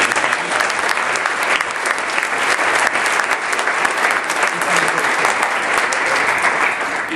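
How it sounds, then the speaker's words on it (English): A large audience at a regional staff event delivers a quick, sustained round of applause, a thick, continuous wash of many hands clapping at a strong, steady level with no talking over it. "Can I have a real quick round of applause for all of those people?"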